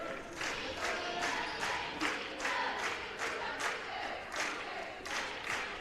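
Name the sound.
crowd cheering at a basketball game with cheerleaders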